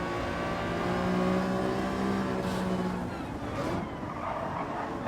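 Race cars in a sim racing league game drone past at moderate volume, their engines humming with a brief surge of revving partway through, with no talk.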